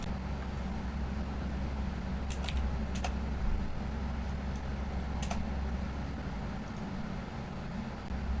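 Quick, scattered keystrokes on a computer keyboard, a few distinct taps over a steady low background hum.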